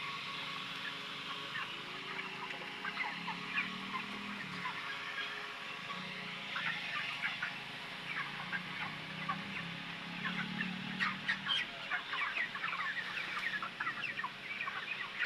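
A flock of 33-day-old broiler chickens clucks and chirps on a farm. The dense, steady murmur stays fairly faint and continuous throughout, with no talk over it.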